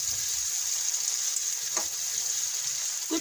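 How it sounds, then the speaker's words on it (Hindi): Green chillies frying on medium heat in a pan, a constant soft hiss of sizzling oil with a couple of brief louder crackles, close and alone. "इनको दरमियानी आंच पर ही फ्राई करना है,"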